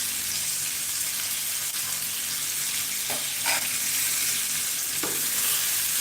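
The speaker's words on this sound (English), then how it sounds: "I'm going to stir for some time, and tomatoes." Tomatoes and green pepper sizzle and fry in a pot for Nigerian jollof rice, a steady hiss broken by a few scraping strokes of a spoon stirring the mixture.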